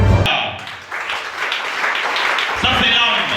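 Congregation applauding and cheering during a French-language church sermon, a continuous wash of clapping that swells and holds steady, with voices mixed into the crowd noise.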